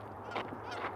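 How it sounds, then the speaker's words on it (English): Geese honk outdoors in a pair of quick, moderately distant calls over a low steady background hum. "the geese are calling."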